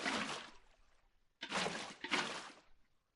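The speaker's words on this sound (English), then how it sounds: "The water's sloshing all over the place." Water sloshes and pours in a video game in three short gushing bursts, the first fading out, followed by two close splashes after a brief pause, fairly quiet with no talking.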